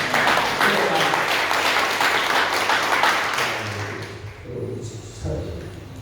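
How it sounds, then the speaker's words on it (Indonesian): Congregation in a GPdI church applauds during a sermon, a broad burst of clapping that tapers off after about four seconds, followed by faint room sounds and a brief voice. "Tepuk tangan Tuhan Yesus"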